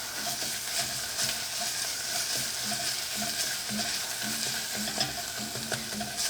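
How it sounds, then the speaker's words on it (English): A spoon stirs salt and black pepper into a simmering tomato sauce for eggplant parmesan, with repeated rhythmic scrapes over a constant bubbling sizzle, close and unvoiced. "And stir that around"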